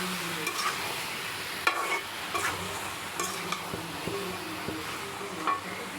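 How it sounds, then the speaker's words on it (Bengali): A vegetable curry being sautéed and stirred in a pan, with a soft continuous sizzle and repeated scraping strokes of a spatula, close and with no talking. "এদিকে আমি তরকারি বসিয়ে দিয়েছি, এখন কষিয়ে নিব ভালো করে"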